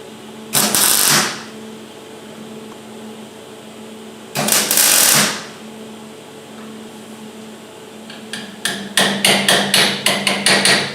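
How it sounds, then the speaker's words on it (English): New steel mounts are spot welded into place with two short, loud, crackling buzzes of the welder about four seconds apart, followed by a quick run of sharp metallic taps, all close by. "Spot welding the new mounts to place."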